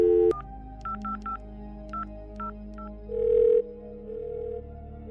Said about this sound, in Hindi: वो तुरंत बाहर निकला और वहां पर रखे फोन से होटल स्टाफ को कॉल किया।